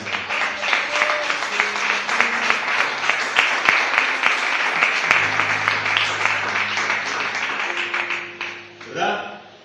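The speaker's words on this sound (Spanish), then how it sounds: "Aplauda al rey en esta mañana." A church congregation claps for the king during a morning service, sustained applause mixed with voices and sustained musical tones, tapering off near the end.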